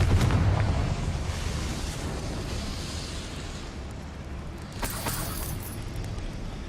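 Confringo fire spell blasting in the Hogwarts Legacy video game, a loud booming explosion at the start that rumbles and decays into a roaring fiery tail, with a smaller burst later.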